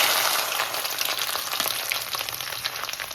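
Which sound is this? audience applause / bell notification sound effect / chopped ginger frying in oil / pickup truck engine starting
chopped ginger frying in oil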